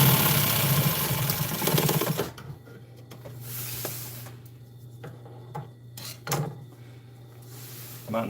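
A sewing machine stitching fabric for custom truck storage, a loud continuous mechanical run for about two seconds, then quieter handling, rubbing and short bursts with a low steady hum and a voice at times.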